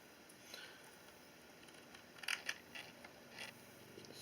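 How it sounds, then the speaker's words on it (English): A nut being turned off the slipper clutch of an E-Revo RC truck gives quiet close-up metallic clicks and ticks in small irregular bursts, with a brief cluster of sharper clicks in the middle. "Just take this nut all the way off."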